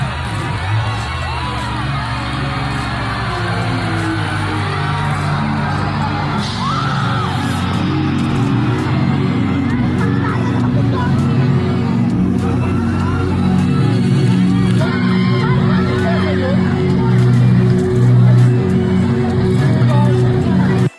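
Concert crowd cheering and yelling at a stage show, a loud continuous roar of voices over thumping music throughout.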